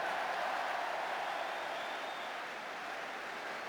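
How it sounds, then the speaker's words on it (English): Crowd applauding in a football stadium during a QPR v Burnley match, a steady broad wash of clapping and murmur held at even loudness throughout, no distinct voices standing out. "Applause from the crowd."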